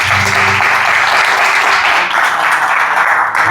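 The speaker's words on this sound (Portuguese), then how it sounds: "Pode aplaudir a Jesus." A church congregation applauds together at a Sunday service, a loud, steady wash of many hands clapping close by with no talking.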